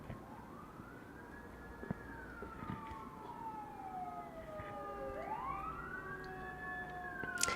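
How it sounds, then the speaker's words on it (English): A fire engine siren wailing in the background, faint and distant, its pitch sweeping slowly up and down in long glides over low steady room noise, with no one talking. "Sorry if you can hear the fire engine in the background."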